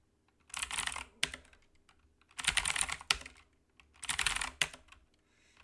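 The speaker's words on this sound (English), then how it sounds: "if I type anything else, nothing happens." Typing on a computer keyboard, heard close and quiet. Three separate bursts of clattering keystrokes are spaced about a second and a half apart, with a few sharp single key clicks between them and near silence in the gaps.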